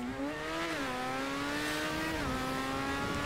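A Formula 1 style car driven in GTA 5 Online howls at high, steady revs, its pitch dipping briefly at gear shifts and then climbing again, loud and continuous with no talking.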